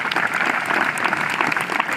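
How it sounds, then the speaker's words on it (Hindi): A gathered audience at a youth organization event claps steadily, a dense, lively patter of many hands at close range continuing throughout without pause. "देखिए एक बार ताली बजा दो सुंदर पिचाई के लिए।"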